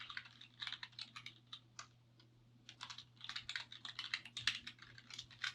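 Fairly quiet typing on a computer keyboard while a password is entered at account signup, irregular bursts of key clicks with a brief pause in the middle, no speech.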